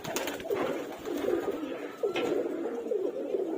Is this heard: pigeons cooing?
yes